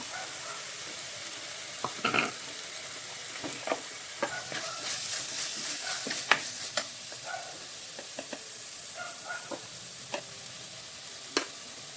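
Spoon scraping and stirring spices with turmeric powder in a sizzling pan while making fish head curry, with irregular scrapes and clinks over a steady frying hiss, close and moderately loud, no talk.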